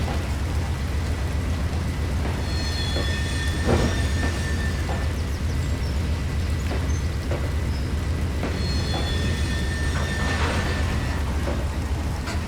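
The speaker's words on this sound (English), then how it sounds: "Now we're coupling with our consist to have one giant train." A long 27-car train consist couples up during shunting, giving a steady loud rumble of rolling wagons with clanks, wheel squeal and metallic knocks throughout, no voices.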